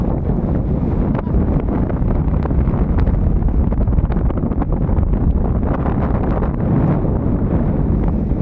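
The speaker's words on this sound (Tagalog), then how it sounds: "Pero malakas yung hangin talaga dito." Strong wind buffets the microphone continuously, a loud, dense low rumble with gusting texture and no clear voices.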